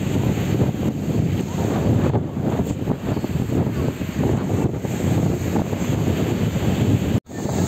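Roaring waves and strong gusting wind at Old Digha beach at night, a loud, rough, continuous rush with wind buffeting the microphone and no talking.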